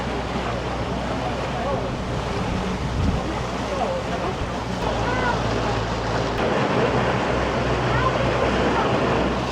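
Motor boat ride through Matka Canyon near Skopje, with a steady engine drone, water rushing past the hull and wind buffeting the microphone, continuous and fairly loud throughout.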